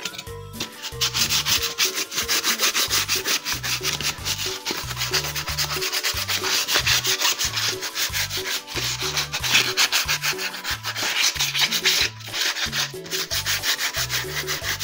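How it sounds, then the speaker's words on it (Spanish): Rhythmic, continuous sanding strokes rasp back and forth at close range on a paper model, scratchy and steady for about fifteen seconds without any talking. "Luego de una severenda lijada para eliminar rebabas"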